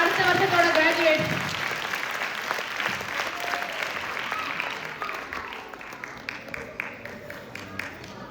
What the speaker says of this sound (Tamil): இந்த நிலை 8 மாணவர்களுக்கு ஒரு பலத்த கைத்தட்டுகளை கொடுத்து உற்சாகப்படுத்தலாம்